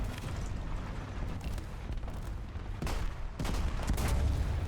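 Tank gunfire and battle noise from the War Thunder game on the Karelia map, with several heavy booming shots and rumbling impacts over continuous low engine drone, the loudest blasts coming near the middle and end.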